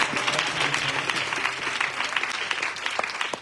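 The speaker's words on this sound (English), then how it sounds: "I want us to also give them a round of applause." An audience at a youth conference gives steady, continuous applause that fills the hall. A few voices murmur faintly beneath the clapping.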